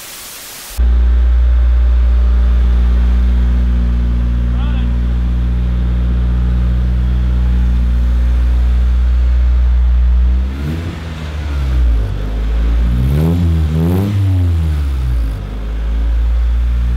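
A homemade amphibious reverse trike's engine abruptly starts and settles into a loud, steady rumbling idle, then revs up and down in several quick surges near the end.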